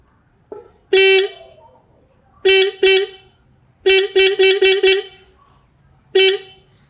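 Royal Enfield Bullet motorcycle horn sounded during a home service, a loud, buzzy, nasal honk in short blasts: one, then a pair, then a rapid run of five, and a final single toot, close up.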